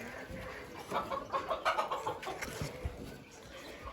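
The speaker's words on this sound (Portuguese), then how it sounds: "São frangos ainda, devem estar também com 4 para 5 meses." Young chickens about four to five months old cluck softly in a quiet series of short calls, a little distant, with faint background noise and no clear talking.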